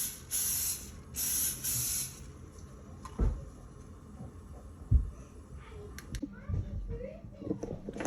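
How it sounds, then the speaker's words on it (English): Cooking oil sprayed onto a cast iron griddle in two short bursts of loud, close hissing, followed by quieter kitchen knocks and faint background voices. "Here I am coating the griddle with oil so the pancakes will not stick."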